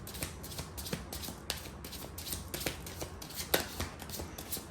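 Oracle cards are shuffled by hand close up in repeated soft riffling bursts with a quick, uneven rhythm. No one talks.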